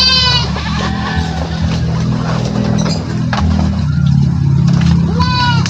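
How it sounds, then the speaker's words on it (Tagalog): Goats bleat loudly and close by, a wavering cry at the start and another at the end, with a low steady hum and faint clinks in between. "takbo ang kambing."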